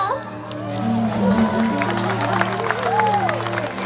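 An audience claps during a children's Ramleela play, a scattered patter of hands under a sustained hum and voices speaking near the microphone.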